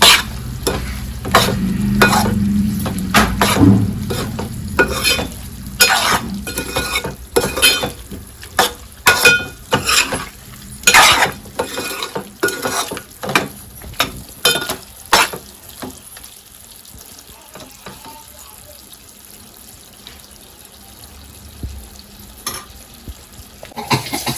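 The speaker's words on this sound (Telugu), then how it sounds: "fry, mutton fry" Mutton fry sizzling steadily in a pan while a spoon stirs it in a quick run of scrapes and clinks, louder at first and easing off near the end.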